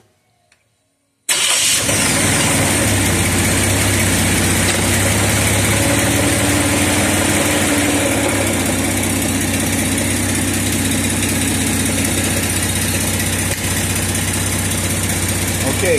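An engine on a dyno with a Ford 4R70W transmission cranks and catches after a quiet start, then settles into a loud, steady, close idle with a constant rumbling drone.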